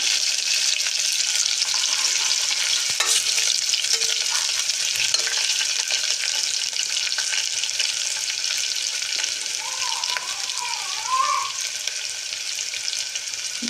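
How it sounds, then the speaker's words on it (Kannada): Chopped onions frying in hot oil for a khuska kurma, stirred with a ladle; a steady, close sizzle fills the whole stretch with occasional scraping stirs and no talking. "ಎಣ್ಣೆ ಬಿಸಿ ಆದಮೇಲೆ ಸ್ವಲ್ಪ ಈರುಳ್ಳಿ ಕಟ್ ಮಾಡ್ಕೊಂಡು ಸಣ್ಣಕ್ಕೆ ಹಾಕ್ಕೊಳ್ಳಿ ಚೆನ್ನಾಗಿ ಗೋಲ್ಡನ್ ಬ್ರೌನ್ ಬರೋವರೆಗೂ ತಿರುಗಿಸ್ಕೊಳ್ಳಿ"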